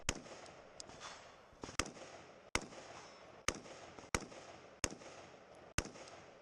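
Rifle shots ring out at steel targets during a 2-gun match, about eight sharp, loud reports spaced unevenly over several seconds, each cracking above a steady background of outdoor noise.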